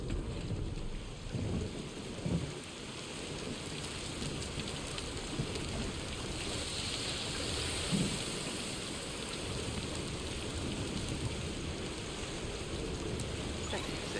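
Timefall rain pours steadily over a game landscape in Death Stranding 2, a dense continuous wash with low thunder rumbles rolling underneath, broadband and unbroken for the whole stretch.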